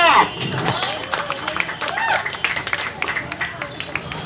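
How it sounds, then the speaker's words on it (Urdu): An audience at the Hayatt Hospitals sixth anniversary celebration breaks into a dense patter of clapping that builds toward the end, mixed with crowd murmur and a voice speaking. "سب ایک بار تالیاں"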